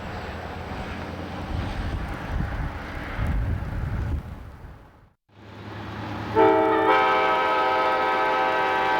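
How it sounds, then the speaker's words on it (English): The Guilford Executive Train passes through snow with a low rumble and wind buffeting, goes briefly quiet, then a loud, sustained multi-tone horn sounds close by. "Dick Clark catches the Guilford Executive Train in"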